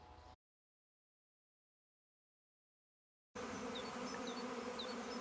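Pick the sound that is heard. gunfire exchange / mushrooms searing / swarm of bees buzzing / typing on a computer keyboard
swarm of bees buzzing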